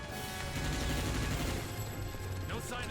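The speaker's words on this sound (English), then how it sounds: "I just wanted to waste the rest of my ammo to reload" Continuous rapid gunfire from Earth Defense Force 2017, a steady stream of shots fired to empty the magazine, sustained and fairly quiet without pauses and no talking.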